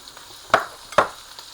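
Onions sautéing with pieces of steak in a hot pan, with two sharp scraping stirs close by over a faint, steady background sizzle.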